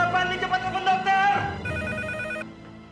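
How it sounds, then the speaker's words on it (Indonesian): A telephone rings loudly with a repeated electronic bell trill while someone calls the doctor, the tone shifting to a higher warbling ring before cutting off. "Barli cepat telepon dokter"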